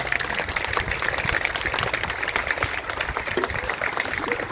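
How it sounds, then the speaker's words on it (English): Steady applause from an outdoor crowd at a protest, with police officers as the ones being honored. The dense clapping stays constant and fairly loud through the clip. "So let's give them a round of applause as well."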